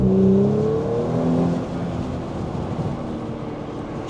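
An Audi S5 pulls hard up a highway on-ramp, its engine note rising steadily through the revs, loud and close from inside the car, then easing into a broad road rumble.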